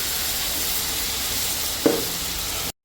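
Chicken pulav sizzles steadily in a pot, a constant close hiss of frying with a single clatter of the spoon stirring near the end before it cuts off.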